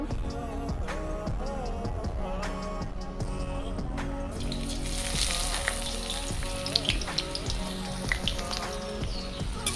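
Chopped onions drop into hot oil for a Bengali-style chicken curry, setting off a bright, crackling sizzle that swells and stays loud, with a few clinks and stirring knocks from the pan before and during frying.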